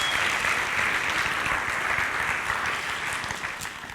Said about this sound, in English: let's give Trevor a round of applause